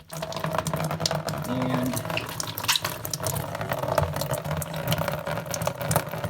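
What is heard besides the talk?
water draining from Maytag washer drain hose into tub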